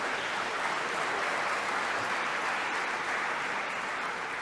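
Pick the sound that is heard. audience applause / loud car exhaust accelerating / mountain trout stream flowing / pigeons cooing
audience applause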